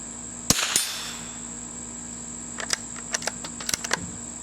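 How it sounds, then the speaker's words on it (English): Winchester Model 52 .22 rifle firing at outdoor metal targets: one sharp close crack, followed by a series of faint light ticks and pings spread over the next seconds. "I'm going to shoot that bear right in the head."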